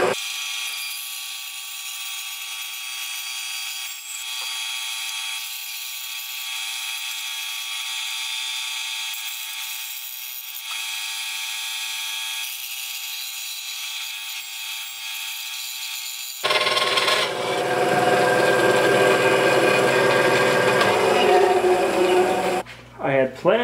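A bandsaw cuts a wooden template out of a glued-up board outdoors: a steady motor hum runs for a while, then a louder, rough cutting rasp takes over near the end.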